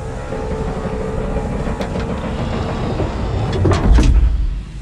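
A chair dragged across the floor in a scene from the sci-fi TV series Alien: Earth: a grinding scrape that swells near the end over a constant low rumbling ambience.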